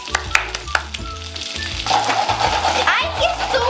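Pasta and meat sauté in a heavily used frying pan for a white sauce with meat, loud sizzling and stirring with scraping clicks and bumps throughout, growing more intense toward the end.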